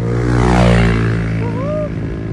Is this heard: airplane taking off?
yes